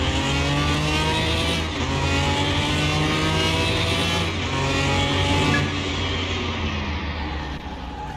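A virtual car engine in Car Mechanic Simulator 2021 revs loud and close in second gear. The tone rises and sags, bogging down with a fluttering unevenness, and it is heard alone throughout.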